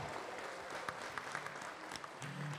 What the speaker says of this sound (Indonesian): tepuk tangan dulu buat Trisha